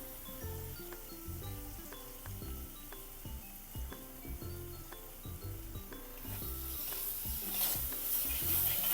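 Potato filling for vada pav being mixed with a squeeze of half a lemon, a steady run of close scraping and stirring strokes against the bowl, growing slightly louder and busier toward the end, with no talking.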